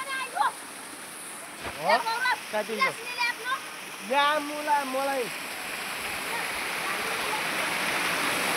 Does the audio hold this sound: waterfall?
yes